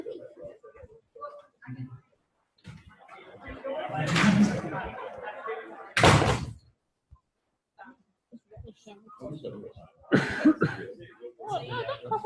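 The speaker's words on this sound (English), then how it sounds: "don't cough on my sandwich" A person coughs a couple of times, loud bursts breaking through casual conversation and light laughter among several people indoors.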